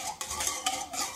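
Macaron batter whisked by hand in a bowl, a brisk scraping swish with repeated strokes of the whisk against the bowl sides, close and steady, with no voices.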